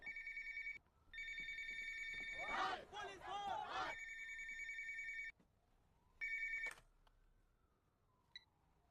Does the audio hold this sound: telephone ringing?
yes